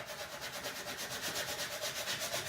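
Rhythmic back-and-forth rubbing on a distressed wooden flag, a steady series of scratchy sanding strokes at close range, fairly quiet and without voices.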